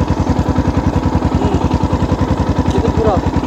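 A motorcycle engine starts up and runs for a beginner learning to ride, its rapid, even pulsing chug loud and close, with a few faint clatters over the top.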